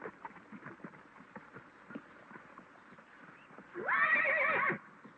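A horse in a corral, in a 1936 Western film, clip-clops steadily on its hooves, and then it lets out a loud, drawn-out whinny near the end, with no talking.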